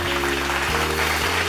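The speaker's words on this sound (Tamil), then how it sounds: "கைத்தட்டுங்க உதவருக்கு." A congregation claps hands together during a Tamil Sunday church service, giving a steady, dense applause with a low, sustained keyboard-like tone underneath.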